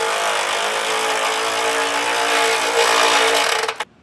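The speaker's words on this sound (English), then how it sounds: "we'll go ahead and tighten those 3 bolts down" A power tool whirs continuously at close range, running down the base plate bolts on a 2022 Ford Expedition, rising slightly in strain before stopping abruptly.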